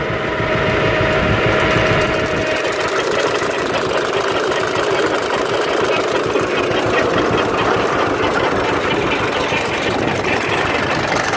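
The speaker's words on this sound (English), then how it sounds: "whenever you have it engaged, it'll actually make the whining noise you can kind of hear" A loud John Deere Model 60 tractor engine drones steadily up close, its PTO driving a John Deere 39 sickle bar mower with a rapid mechanical clatter and a faint whine, continuous throughout with no talking.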